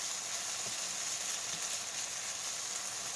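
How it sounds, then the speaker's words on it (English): Food toasting in a pan for chicken fried rice gives a steady, even sizzle and hiss throughout, with faint scraping from stirring, close and moderately quiet, with no talking. "Just want to keep stirring it so it doesn't burn to the bottom of the pan."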